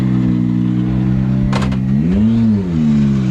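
A rally car pulls away from the start of a gravel special stage at Rally Liepāja, its engine droning steadily close by, then the pitch swells and bends as it revs and accelerates off.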